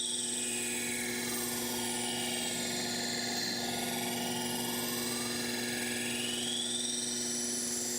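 Belt grinder cutting a hard bevel into a custom knife blade, a steady loud whine with a strong low hum and shifting high tones as the steel is worked, running continuously without a break.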